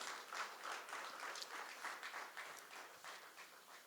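Audience applause at a corporate awards ceremony, a faint, distant patter of clapping from a crowd for presenters coming to the stage.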